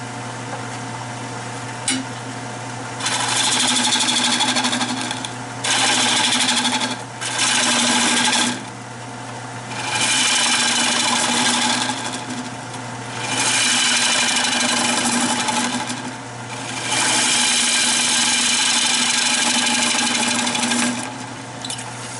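A wood lathe hollows out the center of a red cedar piece, with a steady motor hum under repeated bursts of scraping, hissing cuts that start and stop over and over. No talking is heard.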